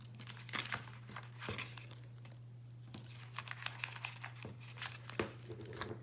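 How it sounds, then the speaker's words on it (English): Quiet crinkling and tearing of tape strips being pulled and pressed onto paper gift card holder flaps, a series of short crackly bursts and rustles close by, with no talk. "we're putting tape on all the flaps."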